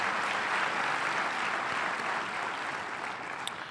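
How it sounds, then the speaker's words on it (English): An audience at a county executive inauguration in Westchester applauds for Rob Astorino: a steady, dense wash of many hands clapping, moderately distant and sustained throughout, easing slightly toward the end. "Please join me in a round of applause for Rob Astorino."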